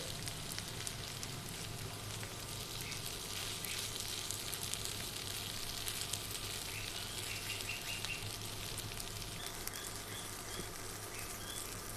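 Potato filling for aloo kachori cooks in a pan with a steady, soft sizzle that runs unbroken and fairly faint throughout, with no voices over it.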